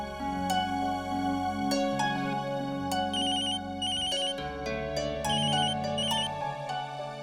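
A phone ringtone plays while a call is placed, a steady looping electronic melody with repeated high chiming notes over a sustained bass pattern, loud and continuous, with no talking.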